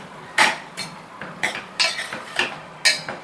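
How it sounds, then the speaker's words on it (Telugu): Chopped tomatoes with peanuts and coriander seeds stirred in a pan, heard as about seven sharp, close spoon scrapes and clanks against the metal at an uneven rhythm, with no talk. "యాడ్ చేసుకొని ఒకసారి ఇది కలిపేసుకుందాం."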